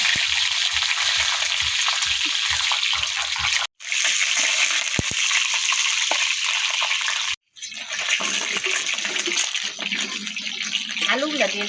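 Potatoes drop into hot oil in a pan and fry with a loud, dense, continuous sizzle and crackle, briefly cut twice, with clattering toward the end and a voice speaking faintly under it.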